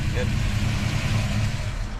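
Hemi V8 of a rare Plymouth Superbird idling, with a running-hot condition, a steady low rumble sustained under close talk from a man nearby.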